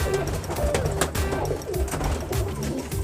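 Pigeons coo repeatedly in low, soft rolling calls, including a red-eyed female, with bird sounds layered over steady background noise.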